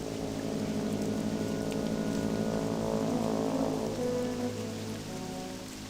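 Steady rain falls in a World of Warcraft Classic Era game world, a continuous even hiss of pouring rain at constant loudness with no talk over it.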